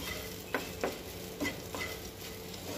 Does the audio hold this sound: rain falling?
no